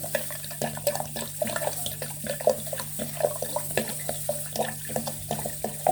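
Cold water for a lemon and banana juice pours steadily into a container, a continuous trickling splash with small irregular bubbling pulses, close and moderately loud, with no talking.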